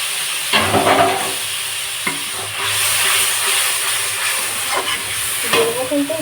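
A paste of ground cumin and ginger fries in a hot pan, giving a steady, close sizzle and hiss. A few clinks and stirring knocks sound over the frying.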